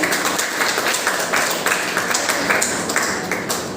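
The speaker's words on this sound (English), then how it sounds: "So clap for the team." A class of middle-school students at a one-word-substitution quiz competition applauds the winning team, with a brisk, uneven patter of many hands clapping close by for several seconds.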